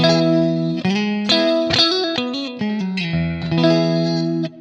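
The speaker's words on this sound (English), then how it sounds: "we can have some more of these kind of subtle flanging tones" Electric guitar through a Blackstar St James amp plugin with a subtle flanger, playing sustained chords and single notes with a sweeping, shimmering, slightly distorted tone, loud and alone.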